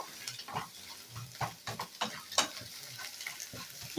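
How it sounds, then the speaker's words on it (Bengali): An egg is scrambled and fried together with onion in a pan, giving a low sizzle broken by irregular scraping stirs and light taps of the spatula, close up with no talking. "এই ডিমটা দিয়ে ভেজে নেব ডিমটা কিন্তু একদম এর সঙ্গে ঝুড়ি ঝুড়ি করে নিতে হবে"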